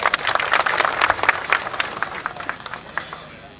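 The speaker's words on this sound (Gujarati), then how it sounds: "એમનો આપણે તાળીઓ સાથે જોરદાર સ્વાગત કરીશું" A rally crowd applauds to welcome a guest, steady dense clapping that swells early and slowly thins over a few seconds, with some voices mixed in.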